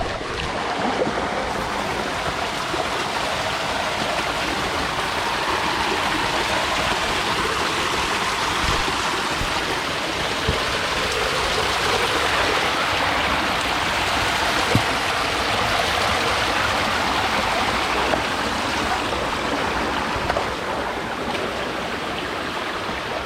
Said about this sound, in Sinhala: දැන් මේ විදිහට තමයි වතුර පාර ඉඩම මැදින් එන්නේ.